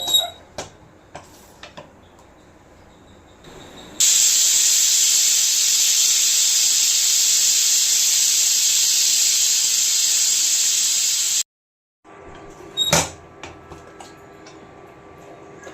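Pressure cooker holding one-pot vegetable rice releases a loud, steady steam hiss for several seconds, cut off abruptly, with faint ticks and clicks before and after.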